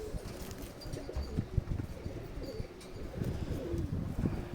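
A group of pigeons coos in a loft, low rolling calls overlapping one another continuously at moderate volume, with occasional fainter chirps on top.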